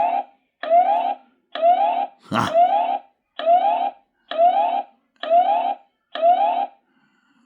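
A loud electronic siren alarm from a Wansview B7 solar outdoor security camera, triggered by motion, blares in eight evenly spaced, pulsing bursts, with a brief shout cutting across one of them.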